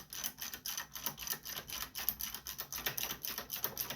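A socket wrench on a 5/8 socket works loose the spark plug of a Craftsman leaf vac, giving a fast, even run of light mechanical clicks as the ratchet turns, close and fairly quiet.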